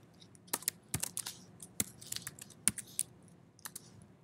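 Quiet, irregular tapping of keys on a computer keyboard, sharp individual clicks in uneven bursts, close to the microphone with no talking.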